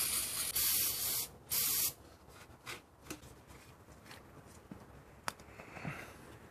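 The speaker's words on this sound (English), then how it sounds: "we're gonna spray it with brake clean and clean it with the green abrasive pad." Two short, loud bursts of aerosol brake cleaner spray onto an engine oil filter housing, close and hissing, followed by quieter handling clicks and light scrubbing sounds, with no talking.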